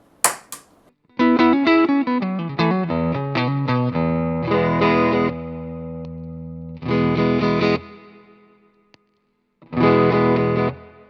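Electric guitar through a Tank Zentro overdrive pedal with heavy gain, playing a busy riff and then several sustained distorted chords separated by brief silences.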